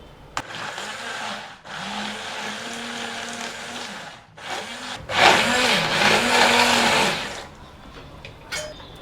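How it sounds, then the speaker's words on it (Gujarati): A mixer grinder crushes dal, tomato and ginger in several bursts, its motor whirring loudly in stops and starts, the pitch dipping under load and rising again, with short pauses between runs. "આ બધું ક્રશ કરી નાખવાનું છે આપણે દાળ ટમેટા આદુ બધું"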